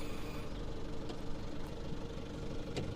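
A forklift engine runs steadily as the truck drives forward, a continuous mid-pitched rumble with a faint knocking texture and no pauses, fairly close.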